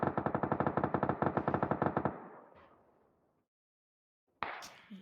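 Machine gun fire in a video game with bikes, a fast steady burst of about two seconds of close, loud rattling shots that fades into an echoing tail, followed by silence and a brief noise.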